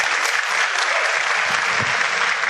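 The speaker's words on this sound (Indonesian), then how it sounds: "Aplaus dulu untuk Bapak Ibu semua." An audience applauds together, with dense, loud clapping sustained throughout.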